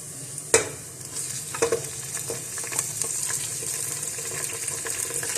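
Beef paya trotters frying and being stirred in a pot, a sharp clatter near the start followed by steady sizzling and intermittent scraping of the spoon, close and moderately loud with no voices.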